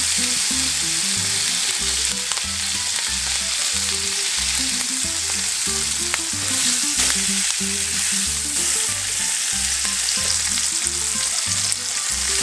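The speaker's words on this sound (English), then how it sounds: "this is when I add butter to the cast iron skillet, as well as a little bit more thyme and rosemary." Steak sizzles loudly in a cast iron skillet with melting butter, thyme and rosemary, a dense continuous crackle and spatter with steady bubbling, close and unbroken with no talk.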